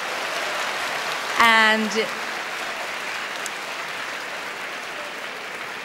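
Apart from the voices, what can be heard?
audience applause at Eurovision voting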